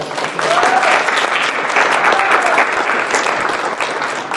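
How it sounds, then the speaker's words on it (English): Audience at a university Three Minute Thesis competition applauding, a dense steady round of clapping that stays loud and even throughout. "I'm just hoping that you'll all join me in giving a big round of applause"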